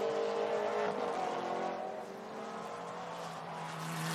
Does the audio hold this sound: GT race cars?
yes